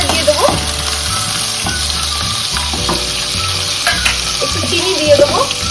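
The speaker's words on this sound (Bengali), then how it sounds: "এবার এতে আমরা পেঁয়াজটা পেরেস্তার জন্য দিয়ে দেবো। একটু শাল জিরে দিয়ে দেবো," Sliced onion and bay leaf fry in hot mustard oil with a loud, continuous sizzle. A spatula scrapes the pan in a repeated rhythm of strokes, close up, with no one talking.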